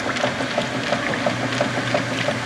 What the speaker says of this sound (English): sound you hear is the water in the other machine.